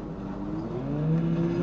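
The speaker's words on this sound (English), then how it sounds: "I hear a car." A car engine in the Fortnite video game, rising in pitch and growing louder as it approaches, a steady nearby whir with no talk over it.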